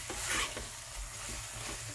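Chicken seasoned with salt is stirred in a pan over a medium flame for chicken kurma, with a steady sizzle of frying and soft repeated scraping strokes of the spoon, close and continuous, with no talking.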